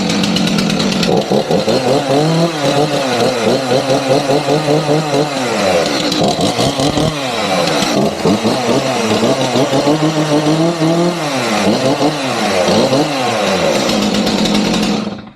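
A STIHL MS 500i chainsaw is tested before work, its engine roaring loud and close throughout, with repeated revving rises and falls and no pause.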